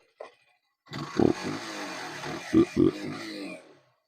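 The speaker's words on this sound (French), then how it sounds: "Je la démarre parce que un des points négatifs, ça va être aussi le bruit de cette bécane." A Zontes Urban 125 motorbike engine cranks and catches, then idles with a buzzy, scooter-like drone punctuated by a few louder blips of throttle before cutting out.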